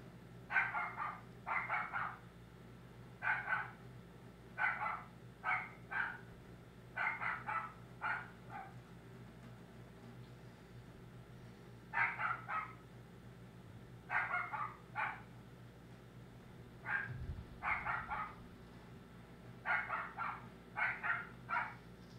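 A pet dog barks in repeated short bursts and clusters, fairly close but not loud, with quiet gaps between volleys in an otherwise calm indoor room.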